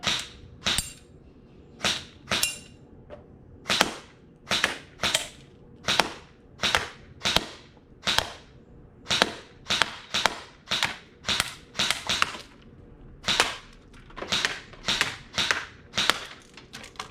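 A Bolt B4 airsoft rifle fires single shots at targets in front of a foam backstop, giving sharp snappy cracks at an irregular pace of roughly one to two per second, close and clear with no talking.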